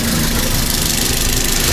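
A small car engine mounted under the seat idles steadily and fairly loudly, a continuous even hum with a mild mechanical rumble and no revving.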